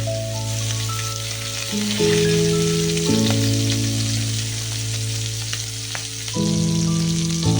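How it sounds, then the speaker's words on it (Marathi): Surmai kingfish pieces fry steadily in hot oil, a loud continuous sizzle with a low tonal hum running underneath and occasional pops and shifts, with no voices. "सर्व तुकड्या अशा छान फ्राय करून घ्यायच्या, दोन्ही साईडला चांगल्या भाजून घ्यायच्या।"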